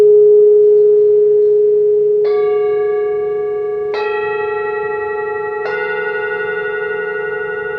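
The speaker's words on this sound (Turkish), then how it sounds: "Bu rüzgar çanı Koşi diye geçiyor." Over a lingering steady hum, a Koshi wind chime rings three bright, shimmering metallic strikes, each left to ring out, with no talking.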